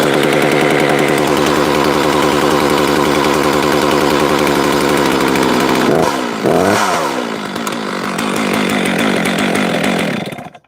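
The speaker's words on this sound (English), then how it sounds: "I wanted to let you see how the chain spins on high idle" Chainsaw running steadily at high idle with the chain spinning, a loud close buzzing engine drone that wavers and dips around the middle, then runs on before cutting off at the end.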